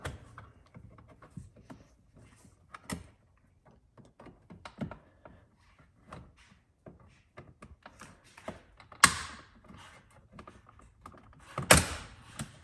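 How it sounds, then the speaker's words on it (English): Plastic trim clips and tabs pop and snap loose as a car interior trim panel is pried off, among scattered clicks and rattles, with two sharper louder cracks toward the end. "It sounds like you're breaking it, but those plastic tabs are just kind of letting off."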